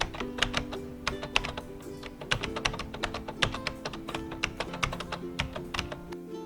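A date of birth and captcha being typed on a computer keyboard, a quick irregular run of crisp key clicks and taps, close and clear with no talk.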